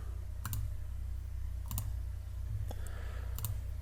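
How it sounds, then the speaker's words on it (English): Computer mouse clicks in an office software session, several soft, close clicks in pairs over a steady low electrical hum. "So I will just go ahead and click post."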